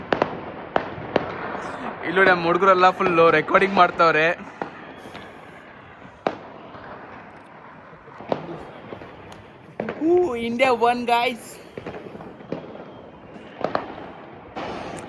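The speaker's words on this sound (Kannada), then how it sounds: "ಹೆಂಗೆ ನಮ್ಮ ಏರಿಯಾದಲ್ಲೆಲ್ಲ ಪಟಾಕಿ ಇಂಡಿಯಾ ವಿನ್ ಆದಕ್ಕೆ ಹೆಂಗೆ ಪಟಾಕಿ ಹೊಡಿತಾರೆ" Firecrackers burst across a residential neighbourhood to celebrate an India win: repeated sharp bangs near and far at irregular intervals over a constant crackling background, while someone talks at length in between.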